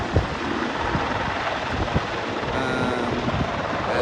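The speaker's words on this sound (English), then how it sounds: "So here comes a helijet, about to land on the helipad." A Helijet helicopter descends onto a waterfront helipad at Canada Place, with rotor thumping over a loud, steady roar and wind noise.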